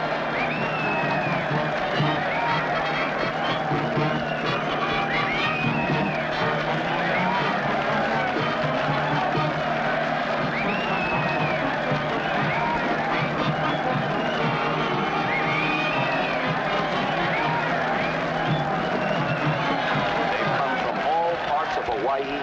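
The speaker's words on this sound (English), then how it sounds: "And look at that mob waving and cheering." A large crowd waves and cheers to welcome a long-missing group of castaways in Hawaii, a dense, continuous roar of voices and shouting that holds steady throughout under a music bed.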